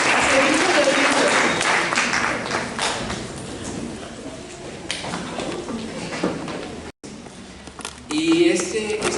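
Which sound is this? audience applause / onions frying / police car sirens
audience applause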